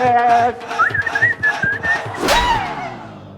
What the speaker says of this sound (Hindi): सीटी ना बजा, फेफड़े निकल आएंगे बाहर